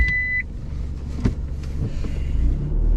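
A turbocharged car with an aftermarket exhaust runs steadily from inside the cabin, a low continuous engine rumble under a brief beep at the start and a few knocks, with no talking.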